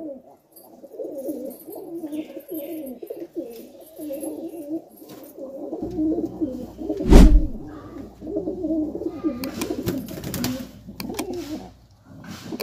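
Several pet pigeons coo on and off over roughly twelve seconds in a fairly close, quiet setting, low rolling calls overlapping, with a brief louder knock or flutter near the middle.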